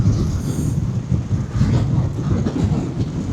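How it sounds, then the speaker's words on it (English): Strong wind buffets the microphone on a hilltop at Conic Hill, rumbling in uneven low gusts for a few seconds, without talk. "Very, very windy."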